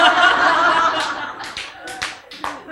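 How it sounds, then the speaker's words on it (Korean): An audience at a lecture on allergic diseases claps in short, scattered bursts mixed with light laughter, following a stretch of talking. "예, 박수 칠만 합니다."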